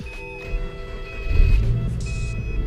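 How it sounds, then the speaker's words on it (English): A car engine cranks and turns over, its low rumble rising partway through and settling into a steady idle, with faint beeping tones in the background. "we'll turn on the car for a bit"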